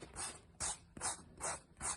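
A coarse foot file rasps over dry skin on a foot in five rhythmic scraping strokes, close and fairly quiet, each stroke a gritty rub.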